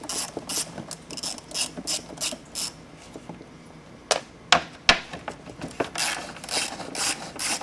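A ratchet wrench clicks rapidly while backing out 10mm bolts on the radiator fan of a 2006–2011 Ford Crown Victoria, bursts of close metallic ratcheting broken by a few sharp knocks and pauses.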